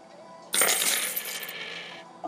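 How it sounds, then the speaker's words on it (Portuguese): Software sound effect of coins dropping, triggered while installing a web browser extension app: a bright metallic jingle cascade that rings for over a second and gradually thins out, heard alone. "Até caiu moedas aqui."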